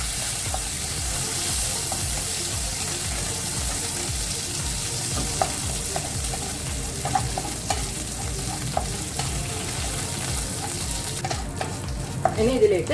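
Curry leaves and dried red chilies fry in a pan, a steady sizzle under continuous rhythmic stirring and scraping, with a few louder knocks toward the end and no voices.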